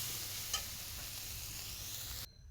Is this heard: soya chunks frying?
yes